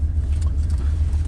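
A 1977 Newport car engine idles steadily just after starting, a loud, even low rumble with no talking.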